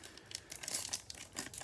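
Plastic wrapper on a Topps Chrome Update hanger box of trading cards crinkles and rips in quick, close, fairly quiet bursts.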